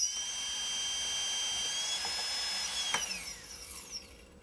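A Gartt ML2212S 920KV brushless motor whines steadily at high speed, with bright tonal harmonics that hold level and then glide downward as it slows, while faint clicks show through toward the end.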